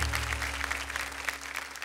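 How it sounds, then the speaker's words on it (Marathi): A crowd of audience members claps for a kirtan performer at a televised kirtan contest stage. The applause is brief, dense and steady. "जोरदार टाळ्या झाल्या पाहिजे त्यांच्यासाठी"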